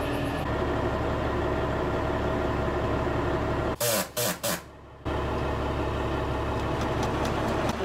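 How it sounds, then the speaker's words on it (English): A farm truck's diesel engine idles and rumbles steadily while the bed is tipped up. The rumble drops out briefly in a few choppy bursts, then resumes at a steady level. "Now we'll tip the truck up"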